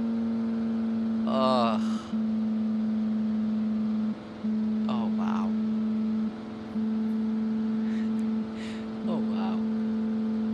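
A mistuned air-cooled V10 truck engine in BeamNG drones steadily as it strains under load, a loud continuous hum that dips briefly now and then, with a voice talking over it in places.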